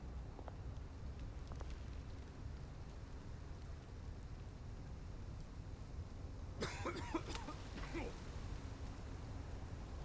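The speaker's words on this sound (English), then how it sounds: "you're probably coughing because you're not supposed to breathe in the fumes" A character in Batman: The Telltale Series coughs from fumes, a short cluster of three or four harsh coughs midway through over a low, steady ambient rumble.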